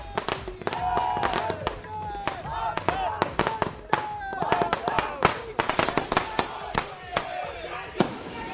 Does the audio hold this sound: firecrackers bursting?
yes